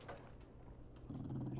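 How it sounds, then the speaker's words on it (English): A dog growls in a zombie video game, a low rumbling snarl that swells louder in the last half second over steady game background noise. "Dog."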